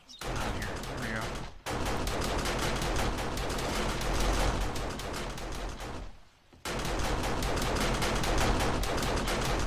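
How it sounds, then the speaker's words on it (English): Rapid, dense automatic gunfire in 7 Days to Die rattles loudly and continuously in long bursts, broken by two short pauses before the shooting resumes. "Oh man, did you shoot them all up?"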